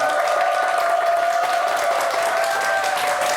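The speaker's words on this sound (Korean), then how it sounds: "박수로 환영해 주시기 바랍니다" A Korean television studio audience claps steadily to welcome a guest onto a morning talk show, a dense, even round of applause that holds at full strength for several seconds, with a faint tonal hum running beneath.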